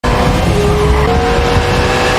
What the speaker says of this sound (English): The three of them got into the car and stepped on the gas to leave.